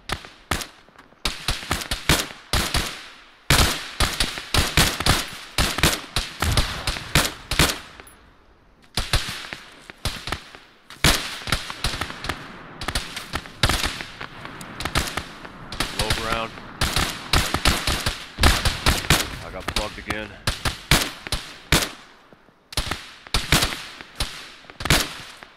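Heavy gunfire in a combat firefight, with rapid bursts and single cracks going off repeatedly and close throughout, while voices talk over the shooting.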